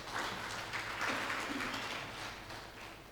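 Congregation clapping loudly at a church gathering, a dense continuous patter of hands from many people that holds steady and tapers slightly toward the end.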